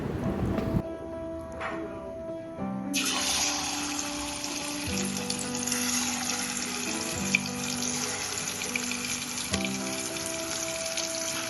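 Two or three pieces frying in oil in a home kitchen, a steady close hiss and crackle running throughout, with low humming tones underneath and no talk.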